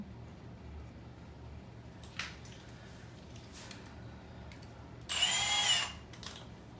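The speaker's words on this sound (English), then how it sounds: "So this is a regular drill hammer, but with a masonry bit." A hammer drill with a masonry bit whirs briefly against tile, a sustained loud grinding burst after a few faint clicks and taps, amid quiet background.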